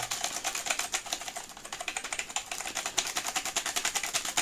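Rapid typing on a computer keyboard, a fast, fairly even run of crisp clicky keystrokes heard close up, continuing without pause and with no talk.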